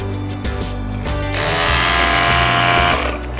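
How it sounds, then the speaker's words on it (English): A 12-volt tire compressor running in a Tesla Model 3 Performance, starting with a few knocks and then a steady loud hissing drone that holds for nearly two seconds before cutting off. "one of the most important accessories, a 12-volt tire compressor, is working in the new Tesla"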